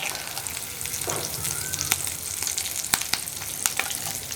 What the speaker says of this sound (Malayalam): അതുവരെ ഒന്ന് ലോ ഫ്ലെയിമിൽ വെച്ചിട്ട് ഇളക്കി കൊടുക്കുക